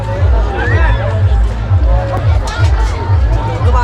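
Dense crowd hubbub at a village fair (kauthig) in Adibadri, with many overlapping voices and a steady low rumble, close and loud throughout.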